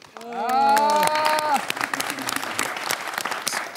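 Trainees applaud one another at the end of a K-pop group's final evaluation, bursts of clapping rising under a loud sung or held vocal tone, then thinning into scattered claps.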